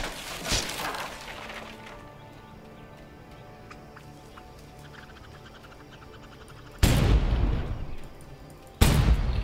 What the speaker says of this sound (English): Shoot the random cannons.